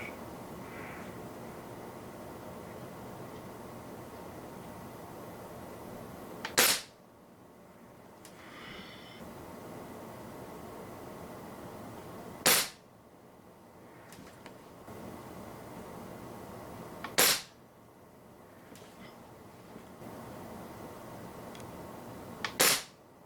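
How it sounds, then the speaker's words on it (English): Umarex Fuel .22 gas spring air rifle firing RWS Meisterkugeln 14 grain wadcutter pellets: four sharp, loud cracks spaced roughly five seconds apart, each standing alone against quiet background noise. "next up we're going to shoot the RWS 14 grain Meisterkugeln wad cutters"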